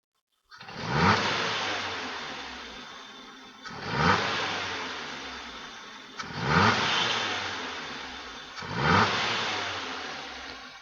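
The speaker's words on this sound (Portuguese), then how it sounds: "E agora eu vou acelerar." A car engine is revved four times in a workshop, each rev a loud, close surge that rises sharply and then slowly falls back toward idle, evenly spaced about two and a half seconds apart.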